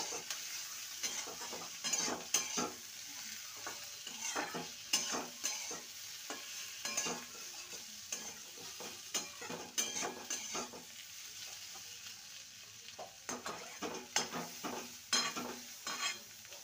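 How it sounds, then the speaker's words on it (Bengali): Fried bitter gourd and potatoes being stirred into spices in a pan, with repeated close scraping strokes of a spatula in a loose rhythm over a faint, quiet sizzle; no one speaks. "ভালো করে করে নেড়ে নেওয়া হয়ে গেছে।"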